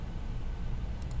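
Two quick computer mouse clicks in a drawing program, close and sharp, over a steady low background hum.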